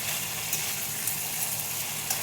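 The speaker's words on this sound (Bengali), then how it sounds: "মশলাটা আমার কষানো হয়ে গেছে, এখন দিয়ে দিব ভেজে রাখা আলু।" Fried potatoes going into a pan of sizzling spice masala, a steady soft hiss of frying with faint stirring scrapes, quiet and even throughout.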